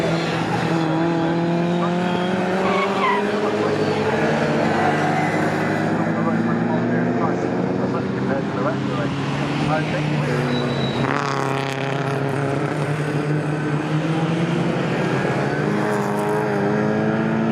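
Classic race cars, including a Shelby and a Marcos, roar past on the Snetterton circuit in a CSCC Classic K Series race, with rising and falling engine notes and tire squeal, under continuous commentary.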